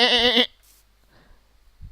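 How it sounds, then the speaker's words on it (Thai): A single sheep bleat from the video game Minecraft, a short, clear, wavering cry lasting under half a second, followed by quiet and a faint soft sound. "เอ้ยแกะ"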